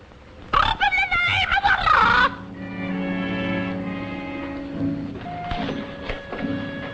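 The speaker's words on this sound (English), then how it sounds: "That dumb raven drives me crazy, so I shut him up in the cellar." A raven caws in a harsh, squawking burst near the start of a 1940s Western TV scene, then falls away beneath sustained dramatic tones.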